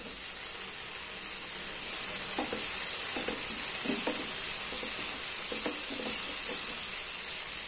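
Onion, green chilli, ginger and tomato sauté in a pan, a continuous hiss with several light spoon scrapes and taps from stirring in the middle.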